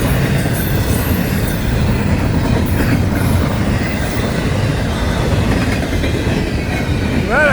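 A long FEC freight train with rock cars and intermodal units rolls past up close, a loud steady rumble of wheels and rail noise with faint metallic squeals near the end, no voices.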